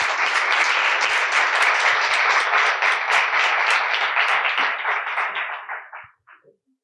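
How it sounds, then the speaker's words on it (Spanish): Loud, sustained audience applause at a lecture session, a dense, even wash of many hands clapping that holds for several seconds before thinning to a few last claps and stopping. "así que un fuerte aplauso para los dos."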